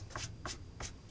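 A small rotary cutter slicing through six stacked layers of quilting fabric, three quick crisp scraping strokes about a third of a second apart, close and fairly soft.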